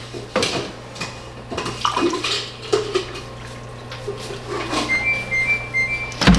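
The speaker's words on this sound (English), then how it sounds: "So we're going to go with a whole nother cup of vinegar." A cup of vinegar is poured into a large vat of black bean and corn salsa made from garden produce, a soft liquid splash mixed with nearby clinks of dishes and utensils.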